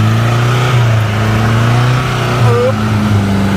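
A loud, steady Toyota dump truck engine roars and drones close by, its pitch shifting slightly as it revs, with no pauses.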